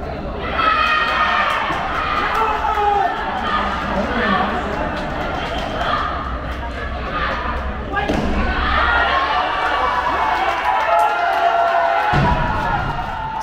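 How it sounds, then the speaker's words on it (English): Crowd in the Vietnam fan zone at SEA Games weightlifting erupting after a successful lift, a sustained roar of cheering with thuds, under an excited commentator's voice. "Success! What an effort. The crowd goes wild."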